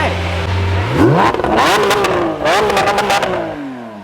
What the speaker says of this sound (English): Can you give it a few revs?